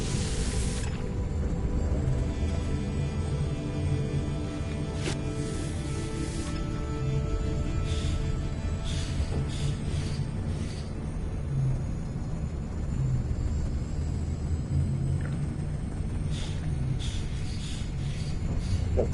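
A storm in the survival game Raft fills the scene with a continuous heavy roar of wind and rain, deep rumbling underneath and occasional hissing gusts, steady and loud throughout.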